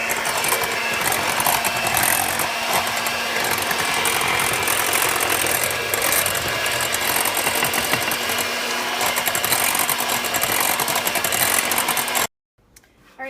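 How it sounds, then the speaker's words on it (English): An electric mixer blends banana bread batter on low, a loud, steady mechanical whir with a gritty rattling texture that runs for about twelve seconds and then cuts off abruptly, no talking. "So I'm just going to mix this on low just for about maybe 30 seconds to get it all blended together."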